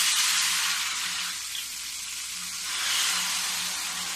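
Ghevar batter poured into hot ghee, frying and foaming with a loud, continuous bright sizzle that swells and eases, close up and without voices.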